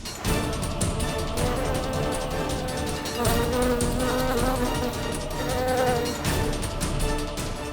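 Dengue mosquitoes buzz in a bedroom, a loud, continuous, dense whine that fills the whole stretch with a tonal, musical layer running underneath.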